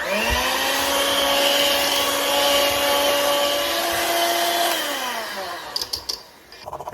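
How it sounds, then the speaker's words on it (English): A stand mixer fitted with a whisk attachment whips cheesecake batter, a loud steady motor whine that holds for about five seconds, then winds down, followed by a few clattering knocks. "Let's go back to our mixer. I got the whisk on here, by the way."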